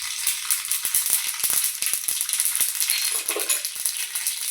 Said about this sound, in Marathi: आता तेल आपलं गरम झालं आहे यात आपण हिंग आणि जिरे टाकू